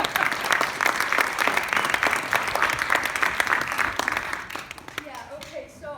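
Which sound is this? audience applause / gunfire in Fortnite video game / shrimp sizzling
audience applause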